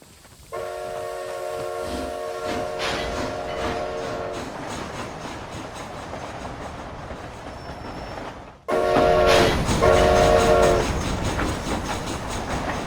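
A train in the Red Dead Redemption video game rumbles along with steady clatter, sounding a long multi-tone horn blast early on, then after a brief cut a louder passage with two more horn blasts over the rolling noise.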